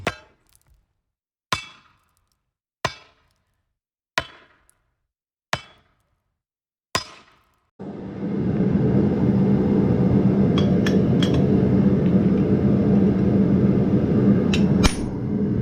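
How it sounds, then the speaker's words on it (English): Six sharp metallic hammer strikes on hot steel while forging a knife from a file ring out at steady intervals, each decaying, followed by a loud continuous roaring rumble like a forge burner with occasional clinks. "let's get some metal hot, start hammering"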